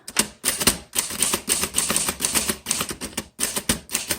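Keys clack on a 1936 Remington Rand 5 manual typewriter, a loud, close run of sharp strikes in uneven bursts with short pauses between.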